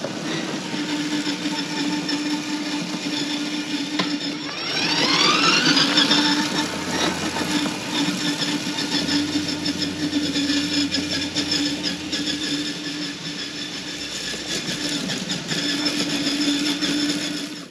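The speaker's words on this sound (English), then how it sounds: "Now that powered spreader is pretty cool." A powered lawn fertilizer spreader's small engine runs in a steady, continuous drone, with a brief rising whine partway through and no talking.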